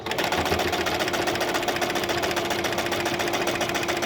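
A sewing machine runs continuously, stitching fabric with a steady, fast mechanical whir and rhythmic needle clatter up close, no voices over it.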